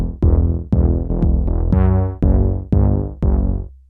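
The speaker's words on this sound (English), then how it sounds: "Now let's listen to our bass line." A Moog Model D synthesizer plays a sequenced bass line of seven sustained, buzzy notes in a steady rhythm, loud and close, with no talk over it.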